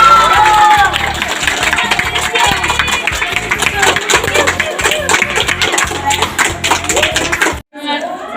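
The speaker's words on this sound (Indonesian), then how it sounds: "Tepuk tangan dulu." Audience clapping and cheering at a school student council (OSIS) election at SMP NU Manbaul Hikam, Situbondo, after the winning pair is announced: loud, dense applause with voices mixed in, cutting off abruptly near the end.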